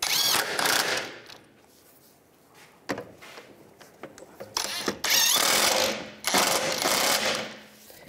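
Nuts being tightened onto the cover mounts of a 2006-2011 Cadillac DTS during serpentine belt tensioner replacement, with bursts of ratchet clicking separated by short pauses, close and fairly loud.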